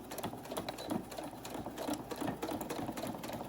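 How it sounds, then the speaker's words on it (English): A sewing machine stitches steadily with a fast mechanical whir and clatter, running continuously without pause or voices. "lower your needle, and we're going to just stitch forward and reverse"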